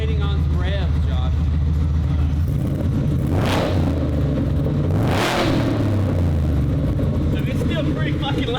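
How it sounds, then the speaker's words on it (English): A loud 750-horsepower supercharged Ford F100 truck engine rumbles and revs up twice in strong surges, with people talking over the heavy idle throughout. "I'm waiting on some revs, Josh."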